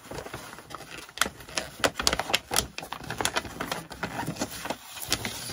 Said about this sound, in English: I'm going to fold it into a diamond shape